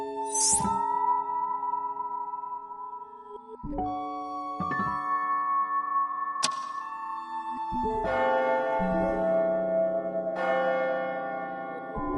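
A deep clock bell strikes midnight in the game AI: The Somnium Files nirvanA Initiative, each ringing stroke following the last every few seconds and leaving long humming overtones behind it, with no speech.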